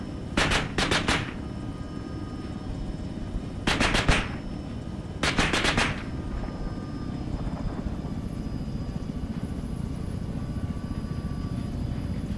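Three short bursts of automatic gunfire in the military shooter Arma 3, spaced a few seconds apart, over a constant helicopter rotor and engine drone that carries on alone afterward.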